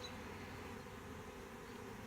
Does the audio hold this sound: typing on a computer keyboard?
no